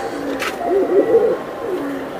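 Pigeons, including two males, give a short run of low, rolling coos near the middle, close and moderately loud over a soft background hum.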